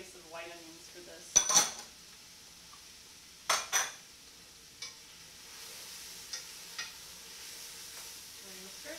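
Cabbage and green onions are stirred in a pot, giving a few sharp scrapes and clatters of a utensil against metal over a faint background sizzle, spaced irregularly and fairly quiet.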